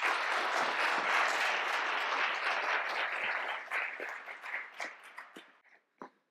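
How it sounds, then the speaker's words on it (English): Conference audience at a quantum computing summit in Chicago applauds, a dense steady wash of clapping that holds for a few seconds and then thins out into scattered individual claps before fading. "So please give a round of applause for Jay."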